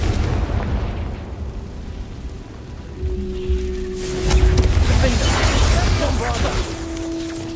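A Confringo spell explodes in a Hogwarts video game, a loud booming blast with crackling, debris-like bursts that swell midway and linger, while a voice is heard over the action.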